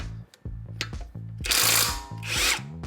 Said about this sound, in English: Brand new impact wrench.